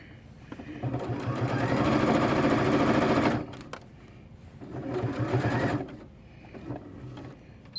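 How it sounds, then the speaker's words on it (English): A sewing machine stitches a quarter-inch quilt seam up to the corner in two near, loud runs of rapid needle chatter separated by a brief pause, with lighter clicks afterward and no talking. "So we're going to just sew to the corner."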